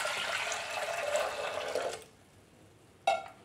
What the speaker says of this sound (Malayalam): ഏകദേശം ഈ ഒരു കപ്പിന് മുക്കാൽ കപ്പ് വെള്ളം ഒഴിച്ചു കൊടുക്കാം.